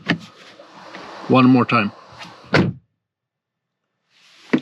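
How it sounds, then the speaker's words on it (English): A Volkswagen ID.3 Pro S door swings shut with a solid, heavy thunk, heard close after a short burst of speech, followed by silence and a faint second rustle at the end. "I didn't mention the great sound when you close the door"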